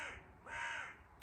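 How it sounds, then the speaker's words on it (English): A crow gives a single clear caw, moderately distant and fairly faint, in a quiet outdoor setting with no talking. "hi Crow."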